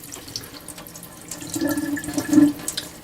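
Water is dumped from a microgreens sprouting jar through a mesh lid, a soft splashing rush that builds over a couple of seconds and peaks near the end before trailing off.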